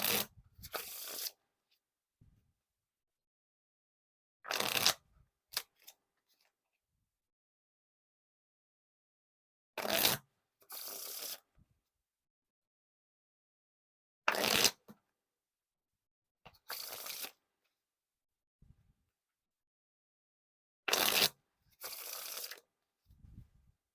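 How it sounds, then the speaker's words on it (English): Bicycle Vintage Halloween playing cards riffle and bridge shuffled, five separate bursts of crisp, fluttering card riffles spaced a few seconds apart, each followed by a soft bridge cascade, close and clear with quiet gaps between. "Now time for the riffle shuffle or bridge shuffle."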